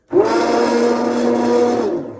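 An immersion blender blending soup whirs up abruptly and holds a loud, steady buzzing drone for about two seconds before starting to wind down.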